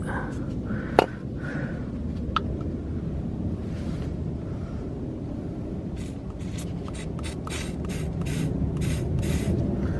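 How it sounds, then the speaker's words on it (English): A spray can spraying penetrant onto brake bleeder valves during a brake fluid flush: several short hissing bursts in the second half, close and fairly loud, after a couple of sharp clicks over low background noise. "spray this on the brake bleeder valves"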